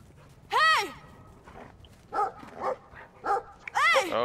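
A dog in Brothers: A Tale of Two Sons gives a few loud barks at the start and end, with quieter yips between, while a person talks over the game sounds.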